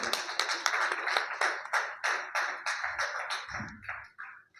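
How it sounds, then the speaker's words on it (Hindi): An audience at a literary society's annual celebration and book launch claps in a fairly quiet, evenly paced run of distinct hand claps that thins and fades toward the end. "एक बार अपने लिए भी तालियां बजा दीजिए।"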